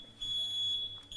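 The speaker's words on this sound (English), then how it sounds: "they can detect a gun from the parking lot when somebody has it, and it alarms you just like it's doing here" A NovoTrax active-shooter gun detection system alarm sounds a steady, piercing high electronic tone that holds for nearly a second, breaks briefly, then resumes. It is loud and close, with no voices over it.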